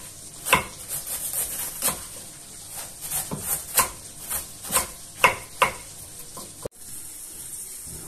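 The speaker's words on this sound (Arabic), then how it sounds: "بعد كده احنا بنقطع الكرنب بتاعنا" A knife chops cabbage into thin slices for coleslaw, making a steady series of crisp, close cuts against a board with short pauses between strokes and no voice over them.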